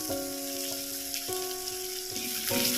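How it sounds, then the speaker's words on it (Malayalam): Spice paste for mackerel thoran sautéing in a pan, a close steady sizzle and crackle with faint scraping, with a continuous background hum running through it, no voices. "ഇതെല്ലാം കൂടെ ഒന്ന് വഴറ്റുക"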